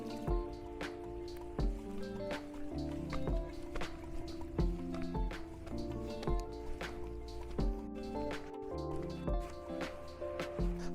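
A small stream runs across a Cornish beach at Sandymouth, a close trickling and dripping flow with irregular splashy bursts throughout, with no talk.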